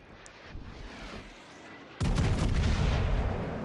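Naval gunfire from warship batteries in the World of Warships: Legends game, a sudden loud heavy blast that jumps in around midway and holds as a dense rumbling roar, following a quieter stretch of distant booms.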